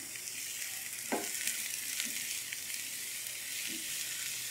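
Chopped capsicum and tomatoes frying on a medium flame, a soft, even hiss of oil with a few faint stirring knocks, steady and fairly quiet with no voices.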